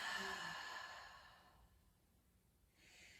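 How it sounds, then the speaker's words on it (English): A slow, relaxed breath drawn in through the nose and let out through the mouth during a restorative relaxation practice, heard close and soft with a long quiet pause before faint breath noise returns at the end. "take a deep breath in through your nose. Exhale through your mouth."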